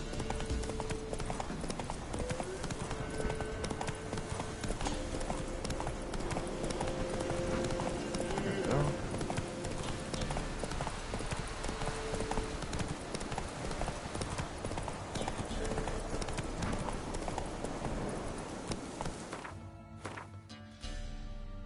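Horse hooves clip-clop at a steady trot in The Witcher 3, continuous and fairly close over game music and ambience before fading out near the end.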